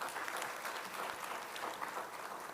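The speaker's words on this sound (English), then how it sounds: "Let us give him a resounding round of applause." An audience at a world anthropology congress inauguration gives a round of applause, steady dense clapping from many hands heard at a fairly low level, continuous and even with no talking.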